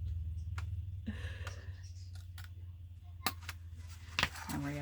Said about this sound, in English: we're going to come in with our little scissors and we're just going to nip it off like that.